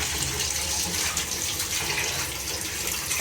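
Rice being washed under a running tap in a home kitchen, a steady close gush of flowing water with light splashing throughout, no talking.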